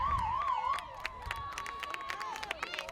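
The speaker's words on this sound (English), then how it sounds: "The horn sounds, the siren" A wavering siren wails at the end of a high school field hockey game over crowd noise and sharp claps or shouts, then settles into a sustained steady tone.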